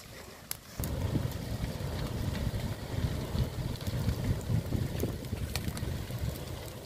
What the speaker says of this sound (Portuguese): É o vento que tá forte demais.